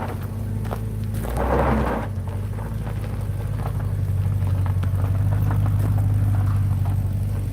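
Turbocharged Valiant 304 engine running steadily with a low, rumbling idle, heard from nearby with a brief whooshing surge early on and occasional knocks in the background.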